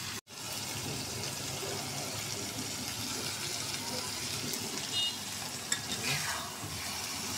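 Tomatoes cooking in oil with spices and a little salt in a pan, a continuous close sizzle with stirring, a sharp knock at the start and a brief clink later, no voices.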